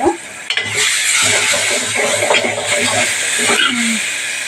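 Tomato pieces frying in a pan while making jackfruit seed curry, a steady close sizzle and hiss with a few scrapes of stirring.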